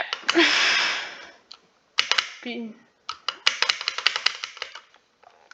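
Computer keyboard keys clatter in quick irregular bursts, loud and close, broken by short pauses, with a voice briefly heard between the bursts during a Stumble Guys gaming session.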